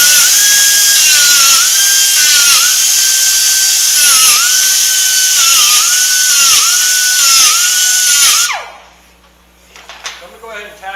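Power tool cutting metal tubing for a carbon fiber gauge panel, a loud high whine pulsing in repeated strokes for about eight seconds before winding down, followed by faint clatter.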